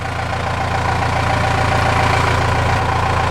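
A truck's 5.4 3-valve engine idling and shaking: a steady, loud, low rumbling idle with an even, slightly pulsing throb that holds unchanged for a few seconds, with no voices.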